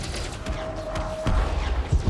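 Weapons fire at a ship in the space combat game Elite Dangerous, rapid thudding bursts and booms with a mechanical hum, close and dense, the firing growing heavier toward the end.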